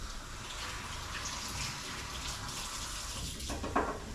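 A bell pepper is rinsed under a kitchen tap, with an even, soft rush of running water throughout and a faint clatter near the end.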